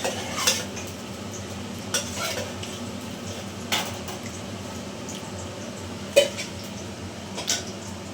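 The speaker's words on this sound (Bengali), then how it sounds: "থালার মধ্যে নিয়ে আমি চাকুর সাহায্যে কেটে দিচ্ছি" A knife cutting fried fritters on a metal plate, a quiet steady background broken by a few sparse clinks and taps of the blade against the plate, close and soft, with no talking.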